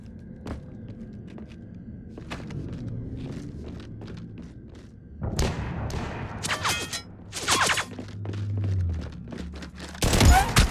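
Gunfire in the video game Mass Effect 3: scattered shots at first, then dense bursts of rapid fire and impacts growing louder toward the end, with faint game voices beneath.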